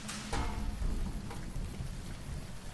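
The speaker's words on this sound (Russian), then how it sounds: "Опять дождик." Rain falls in Fallout: New Vegas as a soft, steady wash of drops, fairly quiet and even across the short stretch, with no talking.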